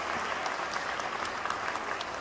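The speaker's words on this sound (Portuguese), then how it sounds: "uma salva de palmas muito calorosa para todos esses escritores" Warm audience applause for visiting writers at a literary gathering in Jaqueira, Pernambuco, Brazil: dense, steady clapping from a crowd, fairly close, continuous without pauses and with no talking over it.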